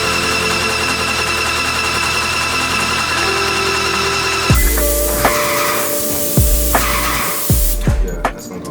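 A paint sprayer hums steadily while priming the ceilings of a newly constructed home, then loud hissing spray bursts start and stop in several passes over the running motor.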